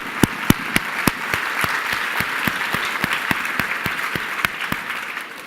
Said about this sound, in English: I would like to give another round of applause to our Living Legends.